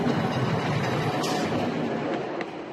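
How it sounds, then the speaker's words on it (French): The Balagne tramway, a coastal train in Corsica, rolls steadily along with a continuous rumbling drone and faint rail clatter, plus a couple of brief metallic squeaks, fairly close and without talk. "le tramway de Balagne embarque les vacanciers dans une agréable promenade le long du littoral"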